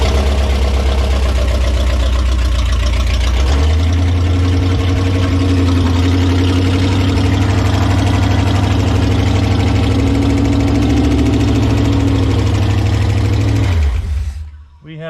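Engine of a 1969 Plymouth idling after an engine swap, with the timing off: a loud, steady, rough rumble with a continuous drone and a pitch shift partway through, then a sudden cut near the end.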